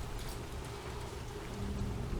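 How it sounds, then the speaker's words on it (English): Heavy rain falls with a low rumble of thunder in an animated episode of Murder Drones, a dense, continuous wash that swells slightly toward the end. "now I have more rain."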